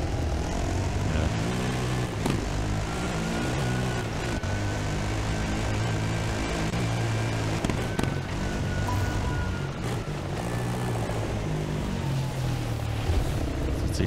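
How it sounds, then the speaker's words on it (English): A rally quad's engine drones loudly and continuously as it slows under engine braking in a desert rally stage, its pitch sliding gradually downward with steady wind and drivetrain noise throughout. "Is he trying to use engine braking now to get us stopped?"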